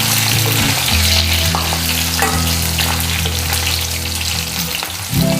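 Green chillies and curry leaves are dropped into hot oil while cooking restaurant-style gobi 65, crackling and sizzling loudly up close over a low steady burner hum. Stirring clatter runs throughout, with no voices.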